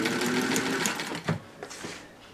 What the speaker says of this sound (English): the first step is sew a bunch together.